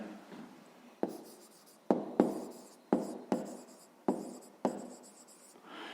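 Pen writing on paper, probably a Ukrainian fifth-grade maths exercise being written out: a run of close scratchy strokes with about seven sharp taps where the pen lands, with no talk.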